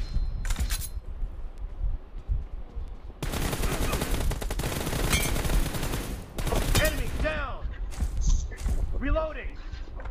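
Rapid automatic gunfire in the PUBG video game, with loud sustained bursts of rattling shots and brief gaps, plus ringing shell-like pings near the end.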